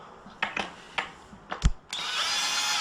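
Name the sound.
drill unscrewing screws while assembling an easel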